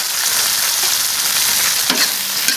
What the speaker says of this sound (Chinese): 给它炒一下，你看这料全部下进去，给它炒